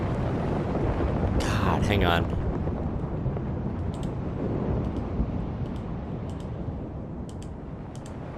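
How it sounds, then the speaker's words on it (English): A big thunderstorm rumbles outside, a loud, continuous low roar of heavy storm noise with a person briefly speaking over it and light keyboard clicks scattered through. "the storm is pretty big."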